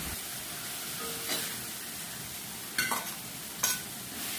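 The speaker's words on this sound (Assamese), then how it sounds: "বিলাহীখিনি গলি যোৱাকৈ ভাজি ল'ম।" Tomatoes frying in a pan after mustard seeds, a steady low sizzle with a few brief stirring scrapes and clicks, no talking.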